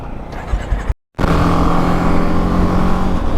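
A BMW 310 GS motorcycle setting off on a ride, its engine loud and close with a steady droning tone after a brief silent cut.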